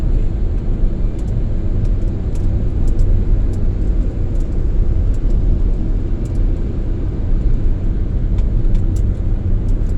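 Inside a car cruising in fourth gear on the road from Kenjeran toward Bangkalan, Madura, a loud, steady engine and road rumble drones without break, with faint high ticks on top.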